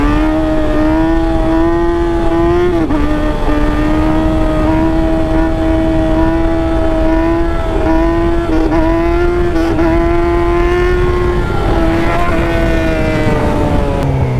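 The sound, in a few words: 2018 Yamaha R6 motorcycle doing a burnout, engine revving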